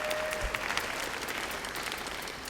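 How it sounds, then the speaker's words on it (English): A band concert audience claps continuously, dense and fairly close, holding steady for the whole short stretch before easing slightly toward the end. "So another round of applause for those two gentlemen."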